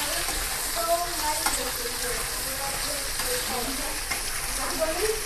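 Green peas, potato and cauliflower sautéing in a pan, a steady soft sizzle with faint stirring scrapes throughout, close and continuous.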